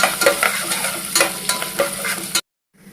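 Spices for a tempering crackle and sizzle in hot oil for an old-style fried eggplant dish, with dense popping bursts for about two and a half seconds before the sound cuts off abruptly.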